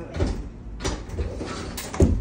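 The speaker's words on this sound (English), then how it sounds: "Oh, and the door came off." The door of a washer or dryer in a Florida hotel laundry room comes off, giving a few scattered knocks and clatters and ending with a sharper bump.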